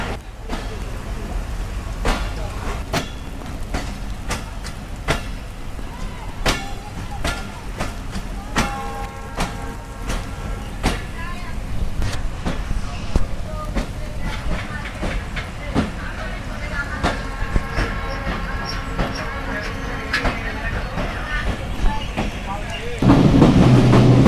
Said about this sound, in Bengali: আমাদের ট্রেনটি নোয়াপাড়া স্টেশন থেকে ছেড়ে যাচ্ছে